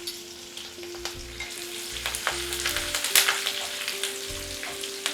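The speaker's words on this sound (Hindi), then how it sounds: "तकरीबन 10-15 इसके अंदर मैं कड़ी पत्ता डाल रही हूँ" Garlic and curry leaves fry in hot oil for a soya pepper fry, with a steady close sizzle, bright crackling pops and intermittent stirring scrapes throughout.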